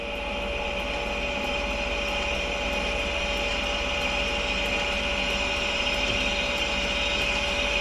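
A Ford Zetec crankshaft spins steadily on a balancing machine, giving a constant mechanical whir with a sustained hum and faint high whine, running alone at an even level.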